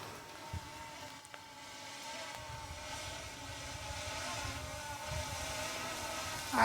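An HS720E drone hovers and descends to land in a suburban setting, giving a steady, moderately loud motor whine that holds throughout with slight swells and a brief bump at the end; no talking.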